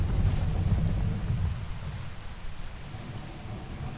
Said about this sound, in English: Got some rain.